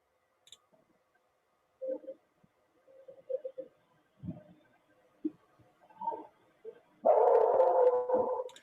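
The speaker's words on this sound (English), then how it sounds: "That sounds like the same dog that was barking on camera." A few faint, distant dog barks are scattered over a quiet background, followed by a louder, sustained yelp or howl near the end.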